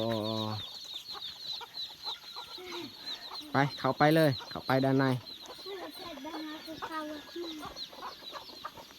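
Chickens cluck inside a rural backyard coop, a run of close, repeated clucks rising in the middle, while people talk over the birds and outdoor noise hums underneath.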